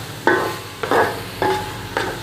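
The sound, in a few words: gajar ka halwa (carrot halwa) cooking and being stirred in pan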